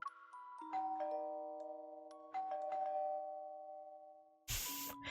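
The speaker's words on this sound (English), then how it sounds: "The doorbell rings, ruining the atmosphere." A doorbell rings in the Love and Deepspace game, a ding-dong chime sounding out clear tones that ring and fade twice, followed by a louder burst of noise at the end.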